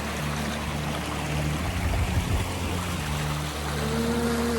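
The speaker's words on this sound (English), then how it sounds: "Look at that creek." Broadband rushing water from a creek beside a hiking trail near Gales Creek in the Tillamook area of Oregon, steady and fairly loud throughout with low engine-like hum and a faint tonal whistle near the end; no talking.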